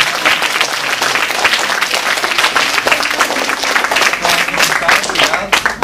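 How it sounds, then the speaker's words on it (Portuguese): An audience applauds to welcome a writer and illustrator at a talk, sustained dense clapping throughout, loud and close, with no one speaking over it. "Outra salva de palmas."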